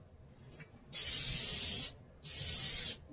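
Vinyl and fabric paint is sprayed from an aerosol can onto car seats in a short hiss followed by two steady one-second bursts, close and loud.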